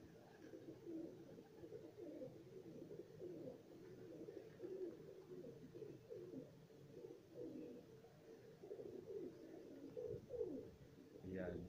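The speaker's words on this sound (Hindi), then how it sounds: "फुल एंजॉय कर रहे हैं कबूतर।" Pigeons coo softly in a loft in Faisalabad, a low murmuring chorus of overlapping calls that runs on steadily throughout, fairly faint and close.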